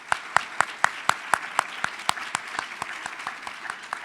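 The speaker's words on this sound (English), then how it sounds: "Let's give UBT a big round of applause." Audience at an awards event applauding a finalist, steady bursts of clapping with sharp individual claps close by, fading slightly toward the end.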